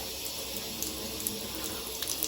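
Cold water pours steadily from a tub faucet, a constant splashing hiss that runs the whole time without talk.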